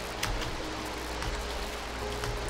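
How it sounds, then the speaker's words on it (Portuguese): Steady rain patters in a Roblox game, a constant hiss of drops with a few faint splashes, heard alone. "Essa chuva está gelada."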